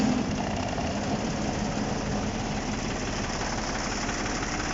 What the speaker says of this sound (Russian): Сейчас запустим двигатель.